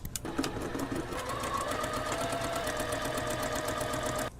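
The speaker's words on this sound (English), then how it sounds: "So now add the top stitching right above that stitch that you had just done." A sewing machine runs steadily, top-stitching the casing of a puffy off-shoulder sleeve, its rapid even needle rhythm continuing close and clear without pause.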